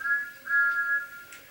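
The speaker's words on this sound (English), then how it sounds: "Peep, peep, peep! Where is the conductor?" whistled Thomas" Steam locomotive whistle from a Thomas and Friends story, Thomas the Tank Engine, a short high steady whistle tone, faint and alone.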